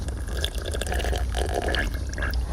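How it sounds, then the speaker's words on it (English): Air bubbling through water in a cup or glass, a continuous gurgling burble with irregular bursts, close and fairly steady throughout, with no talking. "Are you blowing bubbles?"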